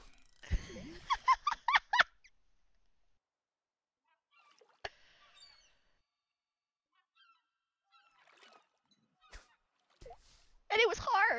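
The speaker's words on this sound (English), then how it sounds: "those seagulls are really loud in my ear hole" Seagulls in the Stardew Valley video game give a short burst of loud, close honking calls, then a long near-silent stretch with faint clicks before another cluster of cries returns at the end.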